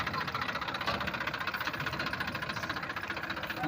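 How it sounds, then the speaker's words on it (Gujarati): A farm tractor engine idles nearby at wheat harvest, a low steady knocking chug that pulses evenly and fairly quietly throughout, with no talking. "મોટી નેટ છે, ટ્રેક્ટર આવી ગયું છે।"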